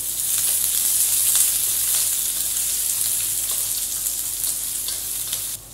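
Chopped onions frying in hot oil at home, a steady, loud broadband sizzle that runs unbroken for the whole stretch with faint crackles and stirring, no voices.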